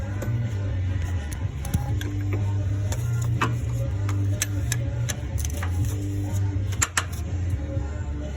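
Ratchet with a 3/4 socket turning the block drain plug counterclockwise on a 2019 Freightliner Cascadia truck, giving a run of sharp, close clicks over a steady low hum, with a louder clack near the end.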